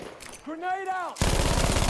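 Machine gun fire in the World War II shooter game Battlefield V, from an MG42 on the Arras map: a short rising tone is followed by a loud, rapid burst of automatic fire.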